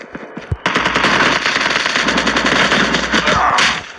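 Automatic gunfire in the mobile game Call of Duty Mobile, one loud, close, rapid sustained burst lasting about three seconds after a couple of single shots, with no one speaking over it.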